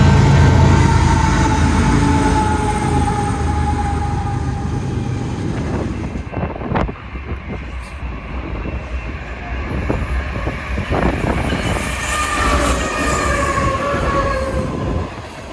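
A CN 570 local freight train in Ontario rumbles past close by, heavy and continuous, with metallic wheel clatter, sharp clanks and faint squeals along the rails.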